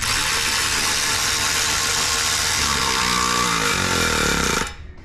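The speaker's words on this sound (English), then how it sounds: "let's try to use the electric ratchet to run down those other two fasteners up there" An electric ratchet runs down fasteners on a Nissan Frontier exhaust, a steady, close motor whir whose tone shifts as the fastener tightens, then cuts off abruptly.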